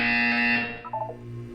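A buzzer sounds in the video game Portal 2 during a wellness exercise, a loud steady electronic tone that holds briefly and then drops into a lower, fading hum.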